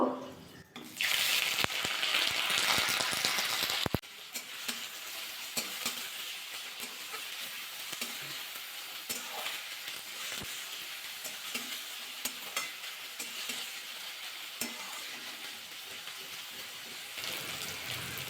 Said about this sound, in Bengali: নাড়াচাড়া করে দেখুন পেঁয়াজটা কিন্তু ভাজা করে নিয়েছি